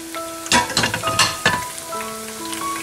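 Semolina fritters frying in hot oil, a close, steady sizzle with a few louder bubbling crackles, heard alone with no talk.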